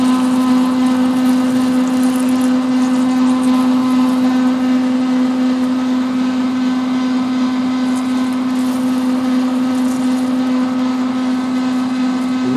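A vintage metal lathe turns at 90 RPM while parting off with a lantern tool post, a loud, close, steady hum with a constant tone and no pauses.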